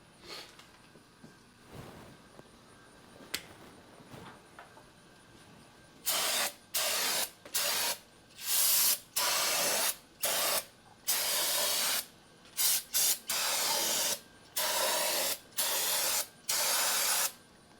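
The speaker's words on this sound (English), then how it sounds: "We'll go ahead and hose it out with some brake clean." Brake cleaner is hosed into the primary case of a pre-2019.5 Harley-Davidson motorcycle in about ten loud, close hissing spray bursts, each a second or so long, after a few quiet seconds of faint workshop sounds.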